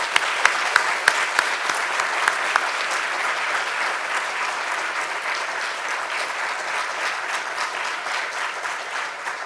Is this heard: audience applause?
yes